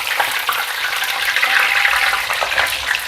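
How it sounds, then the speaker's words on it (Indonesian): Battered sweet potato slices frying in hot oil in a pan, a steady dense crackling sizzle with popping bubbles, close and continuous throughout. "Aku kalau goreng ubi itu aku tutup biar mateng"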